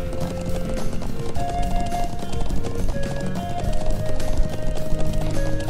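A horse being ridden in Trails of Cold Steel trots with a rapid, steady clip-clop of hooves, loud and close, over a layer of game music.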